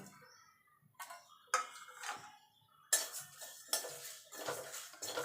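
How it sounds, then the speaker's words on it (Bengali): Whole spices with dried red chillies dry-roasted in an oil-free pan for sweet raw mango pickle, stirred with a utensil in scraping, rattling bursts that come in quick clusters, close up with no talking. "এবার গ্যাসটা ধরিয়ে শুকনো খোলায় এটাকে ভেজে নেবো"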